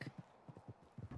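Horse hooves clip-clop in the Red Dead Online video game, a series of soft, fairly quiet hoofbeats in an uneven walking rhythm with no one speaking.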